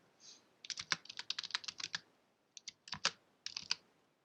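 Keys clatter on a computer keyboard as a web address is typed in, quick bursts of close, crisp clicks separated by brief pauses, with no talking.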